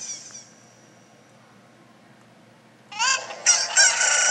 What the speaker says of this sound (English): cuckoo hatched from the egg